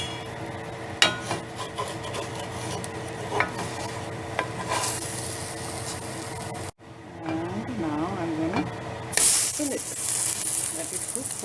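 Bread-and-vegetable toast sizzles steadily in an oiled frying pan. A short clatter and a brief dropout mark the flip, and a louder burst of frying follows, with scraping as the toast is moved around.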